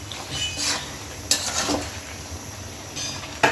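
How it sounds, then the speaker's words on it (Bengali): Tomatoes are stirred and mashed in a cooking pot with potatoes for a tengra fish curry, giving soft wet scraping and a couple of sharp clinks of the spoon against the pot, close, over a faint simmering hiss. "এই টমেটোগুলোও একদম ভালো করে কষাইয়ে একেবারে ঘেঁটে দিব, আস্ত রাখবো না।"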